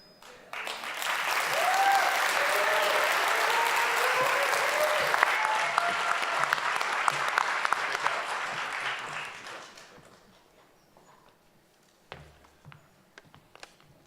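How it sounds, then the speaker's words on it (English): An audience at a pitch event gives a round of applause for Marcus, swelling quickly into full, sustained clapping with some cheering before fading out after about ten seconds into a quiet room with a few stray taps and scuffs. "So can we give one more round of applause for Marcus, Art of the Farmer?"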